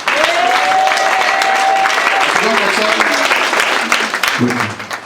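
A church congregation claps loudly and continuously, a dense close wash of applause with a voice sounding over it that fades near the end.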